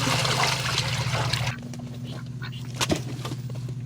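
Water poured from a red bucket for ducks and geese: a loud, splashing pour for a moment, then a quieter trickle with faint bird calls over a low hum.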